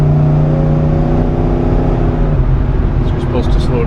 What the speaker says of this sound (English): The exhaust system sounds a little hopped up.